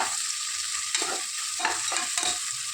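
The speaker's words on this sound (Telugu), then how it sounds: "ఈ ఆనియన్ ముక్కలు కూడా బాగా వేయించుకోవాలి" Onion pieces, two large ones, fry in a pan for egg biryani, a steady close sizzle with scraping stirs and spatula knocks across the clip, no voices.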